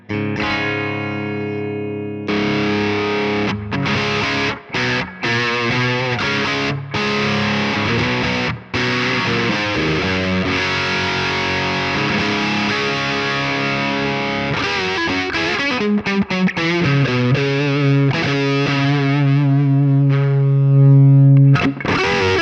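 Electric guitar played through a Jam Pedals Rattler MK.2 distortion pedal at lower gain, with output and tone being adjusted: loud, crunchy chords and riffs cut by short pauses, ending on a sustained low note, no talking.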